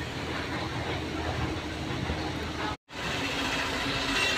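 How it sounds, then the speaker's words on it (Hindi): Train noise at a busy Indian railway station, a steady broad rumble of rolling stock that holds loud and continuous apart from one brief dropout near the end. "ये हो गया पूरी रेलवे स्टेशन"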